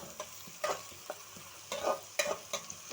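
Chopped onion sautés in hot oil for egg rice. A spatula scrapes and stirs in several brisk, uneven strokes over a quiet sizzle, close up, with no voices.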